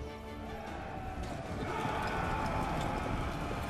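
Horses gallop in a cavalry charge in the medieval strategy game Total War Saga: Thrones of Britannia, a dense, continuous drumming of hooves over a loud battle din that swells slightly toward the end.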